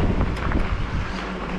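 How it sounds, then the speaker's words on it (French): Wind buffets an outdoor microphone on a mild day, a steady low rumble and gusty roar filling the whole stretch without pause, with no voices. "il y a un vent qui n'est pas chaud"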